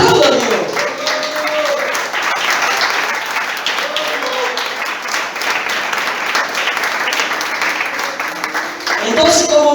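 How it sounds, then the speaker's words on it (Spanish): A church congregation applauds loudly and steadily throughout, a dense wash of many hands clapping at close range, with a voice briefly heard near the end. "¡Aplaudan, Dios!"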